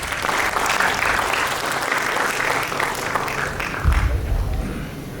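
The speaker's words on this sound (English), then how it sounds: "Let's give her one more time round of applause" Audience at a TEDx event on the Sustainable Development Goals applauds after a performance, a loud, even roar of many hands clapping that continues without a break, with a brief low thump near the end.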